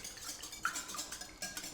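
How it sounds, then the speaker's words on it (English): A whisk clinks and scrapes against a bowl while beating eggs and milk into Yorkshire pudding batter for toad in the hole, a few light, quick metallic taps close by. "And just give that a nice little whisk."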